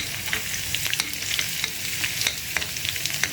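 Onion and ginger fry in a pan for channa dal tadka, giving a continuous soft sizzling hiss with scattered light scraping taps from a spoon.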